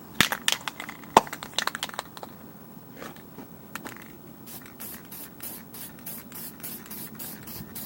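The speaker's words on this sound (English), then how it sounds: "I'm going to grab a set of quick drying flat black paint, and we're going to paint this blade" Quick-drying flat black spray paint hisses onto a lawn mower blade clamped in a vise, in a run of short close bursts, with some scraping handling noise at the start.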